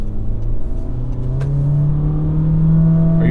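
A 2023 Honda HR-V engine at full throttle, a steady drone whose pitch climbs gradually as the car accelerates, heard from inside the cabin with no talking.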